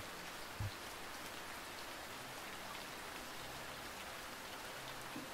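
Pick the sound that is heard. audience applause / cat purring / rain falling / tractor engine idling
rain falling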